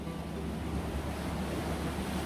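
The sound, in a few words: sea waves on the shore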